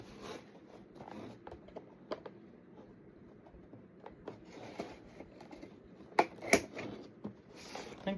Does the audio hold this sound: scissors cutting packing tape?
yes